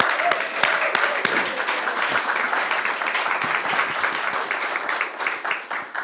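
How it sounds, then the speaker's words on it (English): An opera audience applauds singers being introduced at a behind-the-scenes talk, sustained even clapping from a sizable crowd at moderate loudness. "I think we can give them a round of applause."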